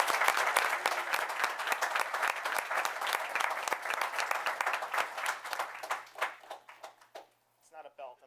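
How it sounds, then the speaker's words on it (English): An audience at a town board meeting breaks into sustained, lively applause of many hands clapping, which tapers off toward the end into a few last claps and a brief voice. "Please join me in giving a round of applause for all these young"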